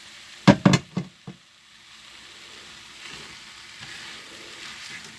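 Prawns dropped into a curry pan set off a few loud clattering thuds, then a soft steady sizzle of frying.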